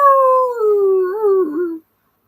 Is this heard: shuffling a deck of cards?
no